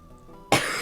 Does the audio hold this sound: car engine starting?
no